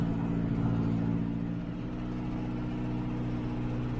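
A tractor engine runs steadily while mowing tall grass, a low, even rumble with a dip midway, close and continuous, with no talking.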